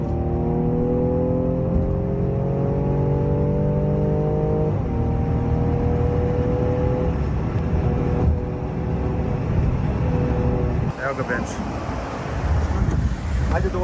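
Mercedes-AMG C63 car accelerating hard, with engine tones climbing steadily through the gears and a loud, close roar over wind noise and road rumble. A voice is heard briefly.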